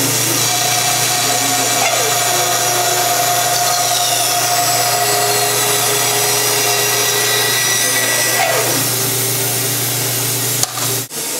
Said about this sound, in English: over at the bandsaw, I will be cutting out the rough outline of this headstock.